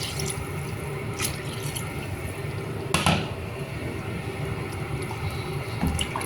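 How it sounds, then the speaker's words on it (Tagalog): Hot water poured into a chicken stew cooking in a pot, a soft continuous trickle and splash heard close by, with a couple of brief louder sloshes and no talk. "So, lagyan natin itong tubig guys na hot water."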